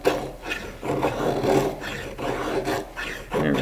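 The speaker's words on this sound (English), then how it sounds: "Making some good hardwood feather sticks." A D2 steel Gorilla Silverback survival knife carves feather sticks from hardwood, giving repeated close scraping, rasping strokes in an uneven rhythm, fairly loud with no talking.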